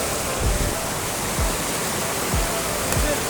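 Swollen hillside streams rush past in a constant loud roar of flowing water, broken by a few soft low thumps.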